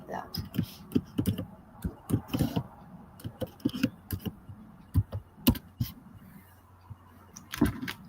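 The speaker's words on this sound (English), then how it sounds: "I know you guys are hearing me typing." Rapid, irregular keystrokes clatter on a computer keyboard nearby, bursts of taps with short pauses between, fairly quiet and steady throughout with no talk over them.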